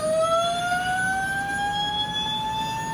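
An electronic siren from a toy American LaFrance pumper fire truck's sound board wails steadily with a slowly rising tone, loud and continuous over a faint background hum.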